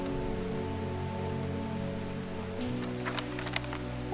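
Steady rain patters continuously over a soft background of sustained musical tones, with a few brighter drip-like ticks near the end, in the video game Strange Horticulture.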